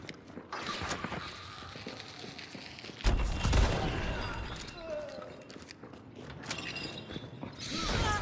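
In the game Hunt: Showdown, a bomb lance explosion lands as a sudden heavy boom partway through. It sits among clattering mechanical creaks and scattered gunfire, and the whole scene sounds busy and close.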